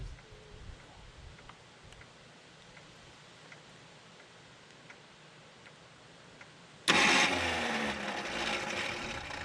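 A 1974 Jeep CJ5 engine runs quietly at idle, then is pulled off idle near the end, its sound jumping abruptly into a loud, rough, steady roar that holds to the finish.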